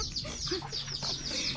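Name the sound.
chicken clucking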